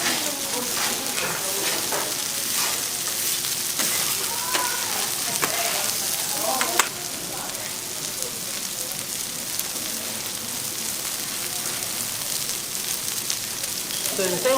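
Pork belly and bean sprouts frying in oil on a large billiard-table-sized iron griddle, giving a steady, dense sizzle with spatula scraping and a busy background throughout.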